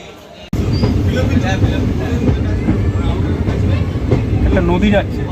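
Teesta Torsa Express running out of Katwa Junction at dusk, loud continuous rumble and clickety-clack of the rails heard from on board after a brief quieter start, with voices in the background.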